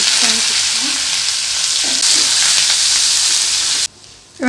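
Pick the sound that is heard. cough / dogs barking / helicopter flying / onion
onion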